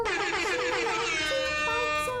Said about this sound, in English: he will jump scare the player with an air horn.